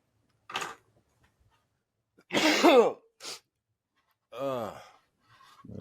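A single sharp sneeze bursts out between short, quiet vocal sounds and breaths in an otherwise silent room.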